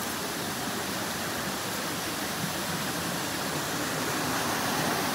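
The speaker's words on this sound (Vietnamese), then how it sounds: "Đây là một tổ hợp những cái thác gì cả." A forest waterfall complex cascading with a steady, dense rush of water, constant and fairly close, with no voices over it.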